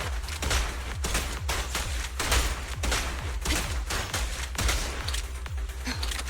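Rapid gunfire from Zhu Yuan's weapon in the video game Zenless Zone Zero, a fast, close, loud stream of sharp repeated shots with heavy low thumps, continuing unbroken for several seconds.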